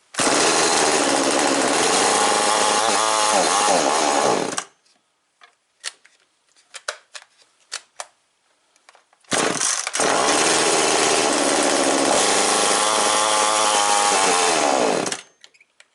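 A small two-stroke chainsaw engine, a Zenoah G2500 clone running slightly lean, roars loudly for several seconds, cuts out to a few sputters and pops, then revs up again for a long stretch.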